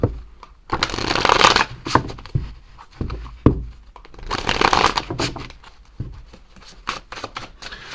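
A deck of message cards is shuffled close up in two bursts of riffling, with soft taps and handling noises between them and no talking.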